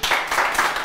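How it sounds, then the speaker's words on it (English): A short burst of applause from a crowd, steady clapping with no break. "And I think that deserves a round of applause."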